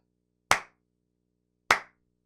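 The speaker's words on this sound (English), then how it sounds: "Golf clap." Two separate sharp hand claps spaced about a second apart, a slow, sarcastic golf clap in an otherwise silent room, crisp and close.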